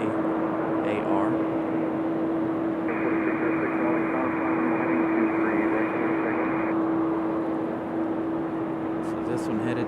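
A Republic Airways jet takes off at Raleigh-Durham airport with a broad, steady engine roar and a sustained tonal whine. A voice talks over it.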